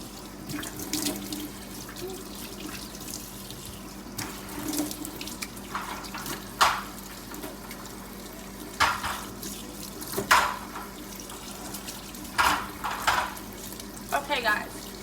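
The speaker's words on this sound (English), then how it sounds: "So let's just wash our face off." Water runs from a sink tap while someone splashes and washes their face, with repeated sharp splashing bursts over a steady low hum, close by; a voice murmurs faintly at times.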